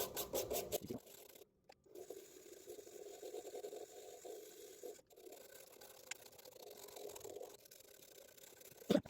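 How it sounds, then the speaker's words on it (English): A wire brush scrubs excess char off a wooden pen turning on a lathe, making a steady faint scraping rasp over the motor hum, with brief pauses and a couple of louder scrapes at the start. "we're going to go ahead and brush off some of this excess char"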